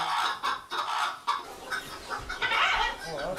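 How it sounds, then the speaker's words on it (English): A flock of chickens clucking and squawking close by, busy and continuous, with loud overlapping calls throughout. "Oh, there's chickens everywhere."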